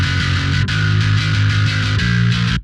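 A heavily distorted bass guitar playing a loud, gritty sustained riff with a brief break partway through, then cutting off abruptly.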